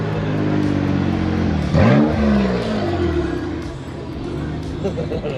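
A Subaru XT6 turbo car revs hard, its engine note sweeping sharply upward as it accelerates, then settling into a steady drone, with people talking nearby.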